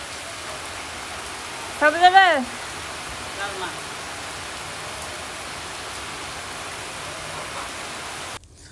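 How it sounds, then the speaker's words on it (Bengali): Heavy rain falls in a village as a steady, even hiss throughout, while a person briefly asks a short question partway through. "জোর আসছে বৃষ্টি,"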